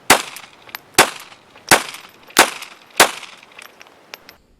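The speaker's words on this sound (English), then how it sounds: "Smith & Wesson M&P 22 unsuppressed." Unsuppressed Smith & Wesson M&P 22 pistol firing .22 rounds outdoors: five sharp, loud cracks spaced about a second apart, each with a short ringing tail, followed by a couple of fainter clicks.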